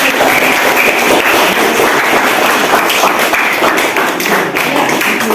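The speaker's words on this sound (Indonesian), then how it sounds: "Aplaus untuk kita." A classroom audience of students claps together in sustained, loud applause that fills the whole stretch without pause, with no talking over it.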